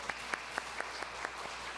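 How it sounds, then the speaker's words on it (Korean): A church congregation at an all-generations joint service claps a scattered round of applause, with distinct separate hand claps at a moderate distance and no talking over it. "박수 한번 해요."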